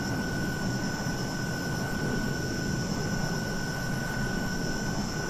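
Steady jet engine roar from a Hawker Hunter T7 in Microsoft Flight Simulator 2020, a continuous loud drone with a constant high whine, unchanging throughout and free of speech.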